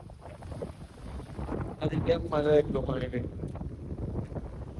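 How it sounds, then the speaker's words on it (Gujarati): Strong wind buffets the microphone beside a dam, a steady low rumble running throughout, while someone speaks briefly in the middle. "પવન બહુ આવે"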